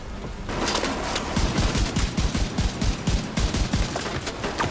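Rapid automatic gunfire in Tom Clancy's The Division 2 on PC, a sustained rattling burst of closely spaced shots with a few heavier thumps, fairly loud and continuous for several seconds.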